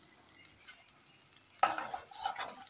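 Flour is stirred into a pan for white sauce: a quiet lull, then a sudden burst of scraping, sizzling stirring that continues irregularly for about a second, close and moderately loud.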